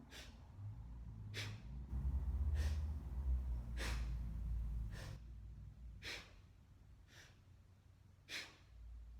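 Bhastrika breathing exercise: a series of forceful nasal exhales, about seven sharp, close puffs spaced roughly a second apart, with a softer breathy inhale at the start.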